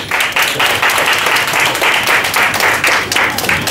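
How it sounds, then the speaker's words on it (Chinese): An audience claps and applauds to welcome a guest at a seminar talk, a dense, loud and sustained burst of many hands clapping with no speech over it. "来，我们来掌声欢迎一下。"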